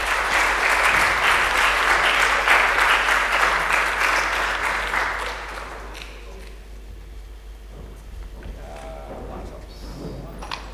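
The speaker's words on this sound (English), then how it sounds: "Big round of applause for Joe." Audience applause for a presenter at a PocketQube small-satellite workshop, loud and sustained clapping for about six seconds before fading into quieter room noise with light shuffling.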